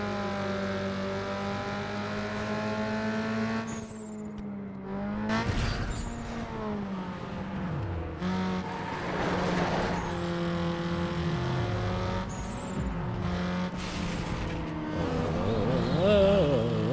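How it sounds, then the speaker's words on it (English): Engine drone from cars in Need for Speed Underground 2, a steady mid-level hum with gear shifts, revs rising and falling, and occasional whooshes of cars passing, with no music. "obviously I hear the engine noises and the car noises in the background sounds"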